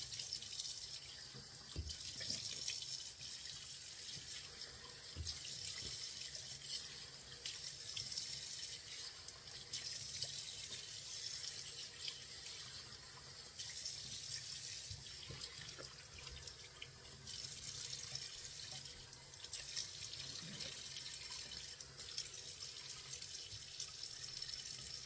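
Tap water runs steadily from a faucet into a sink during a face-washing skincare routine, a continuous hissing splash with small surges and drips throughout, with no talking.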